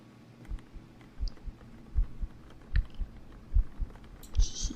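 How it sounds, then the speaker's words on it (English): Someone makes soft ASMR heartbeat sounds, a series of quiet low thumps repeating at an uneven pace for several seconds, close and gentle, with a faint click and hum behind. "I can do heartbeats."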